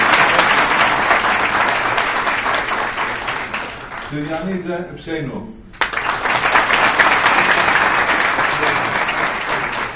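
Loud audience applause at a book launch in Istanbul, dense clapping that dips while someone speaks briefly in the middle, then swells back to full strength until the end.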